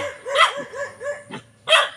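A dog barks close by in a short run of about four sharp, yipping barks, with a final louder bark after a brief pause.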